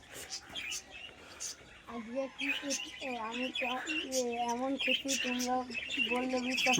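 Several pigeons caught by hand coo and flutter nearby, a run of soft rising and falling calls with rustling and faint whispering voices underneath, fairly quiet and close.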